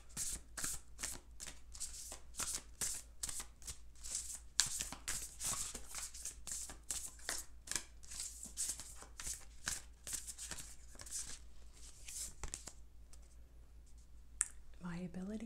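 A deck of oracle cards being shuffled, with quick papery riffles and soft clicks repeating closely over a long stretch, faint and intimate, ending with a brief low voice.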